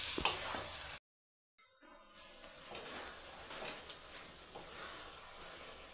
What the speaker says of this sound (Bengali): চিকেনটাকে 3-4 মিনিট ধরে ভেজে নেব।